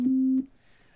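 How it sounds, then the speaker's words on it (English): Pure sine wave tone from a software synthesizer in Reaper, a single steady clean note lasting under half a second before cutting off. "right now we have the sine wave"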